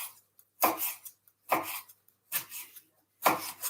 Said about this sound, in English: And then all I'm going to do is chop those up.